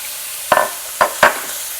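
Onions dropped into hot caramel for burger topping, a soft background hiss broken by three sharp sizzling bursts as they hit the pan, each fading quickly.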